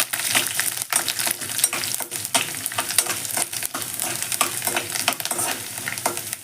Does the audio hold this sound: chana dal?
yes